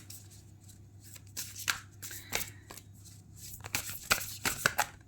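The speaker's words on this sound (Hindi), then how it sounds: "चलिए और देख लेते हैं, एक और कार्ड लेकर आएंगे।" A deck of tarot cards being shuffled by hand: close, crisp riffling and flicking bursts coming irregularly, over a faint low steady hum.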